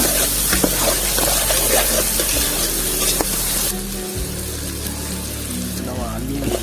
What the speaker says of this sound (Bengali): ক্যাপসিকাম, কাঁচা লঙ্কা, টমেটো একসঙ্গে দিয়ে দিই, আর আদা সেটা একসঙ্গে।